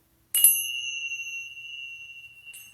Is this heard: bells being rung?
yes